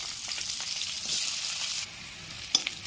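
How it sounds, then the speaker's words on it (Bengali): Onion frying in oil with cumin for fish curry makes a continuous soft sizzle close by, swelling briefly midway, then a couple of sharp utensil taps near the end. "পেঁয়াজটা ভাজা হয়ে গেছে"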